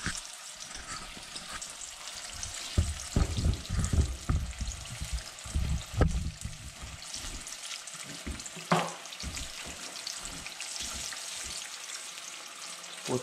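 Saugeye fish fillets frying in a pan give a steady close sizzle, with bursts of louder crackling and popping between roughly three and nine seconds.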